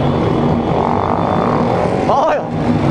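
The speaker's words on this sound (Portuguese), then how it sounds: "Tem moto, rapaziada, tem moto." Motorcycle engines rumbling steadily close by at a mass street ride in São Paulo's east zone, with one bike revving sharply up near the end.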